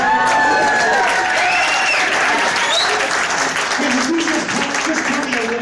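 A crowd at a collectibles benefit for Aurora shooting victims breaks into loud, sustained applause, a dense wash of clapping filling the room with voices rising faintly beneath it.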